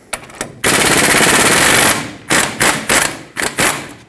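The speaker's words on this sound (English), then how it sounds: "use a power tool on these 2 21mm headed bolts holding the caliper onto the front axle" An impact wrench loosens the two 21mm caliper bolts on the front axle of a 2011-2016 Ford F-350: one loud, sustained rattling burst, then several short, sharp hammering bursts with brief pauses between them.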